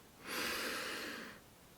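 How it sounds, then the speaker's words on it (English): A single slow, steady inhale during a guided breathing exercise in a children's worship session, a soft airy rush lasting about a second, close and clear with no talking over it. "Breathing in"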